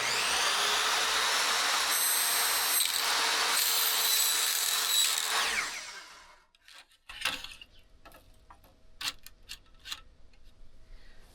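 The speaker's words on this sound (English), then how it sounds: "Now I've never cut plastic like this, but I'm going to see if I can do it with the miter saw." Miter saw cutting an insulated polycarbonate plastic greenhouse panel: a loud, continuous high whine for about six seconds that winds down, followed by scattered clicks and handling sounds.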